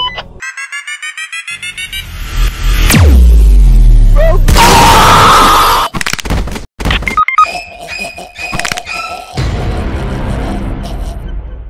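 An explosion in the Roblox game Brookhaven, a loud booming blast with a sweeping falling tone, followed by crashing, thudding game effects and bursts of alarm-like tones.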